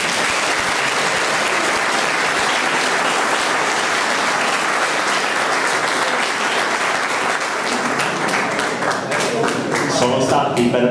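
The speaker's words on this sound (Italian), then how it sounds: "facciamo un applauso per loro" Sustained applause from an audience at a municipal administration inauguration, dense and steady clapping filling the room for the whole stretch, thinning slightly toward the end.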